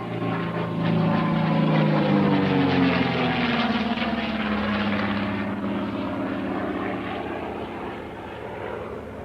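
A Fairey Firefly Mk5 propeller aircraft flying past at an air show, a loud droning piston engine whose pitch slides downward as it passes, then fades gradually.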